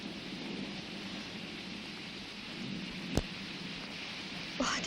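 Heavy rain pours in a steady, dense hiss that fills the whole stretch, broken by one sharp crack and a brief rumbling swell near the end, as if thunder strikes nearby.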